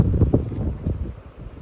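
Strong wind gusts buffet the microphone at a seaside caravan park at Ladram Bay in Devon, a loud rumbling roar that eases slightly toward the end.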